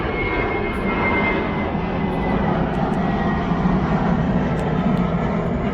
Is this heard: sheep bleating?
no